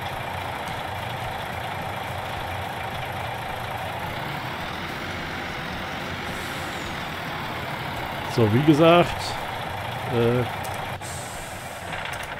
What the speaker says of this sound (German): LKW auskoppeln